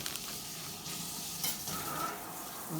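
Long grain rice toasting in a pan for Spanish rice sizzles steadily, with occasional scraping of a utensil stirring through the grains.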